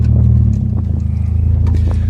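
Vehicle engine running without a muffler on a warm, windy day, a loud, close, raw low rumble with a rapid, pulsing exhaust throb that holds steady throughout.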